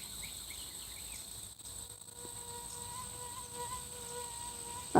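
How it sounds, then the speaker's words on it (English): Cicadas buzz outdoors in a steady, faint high drone with thin tonal whines over quiet background hiss, ending with a short louder knock. "Lots of the cicadas."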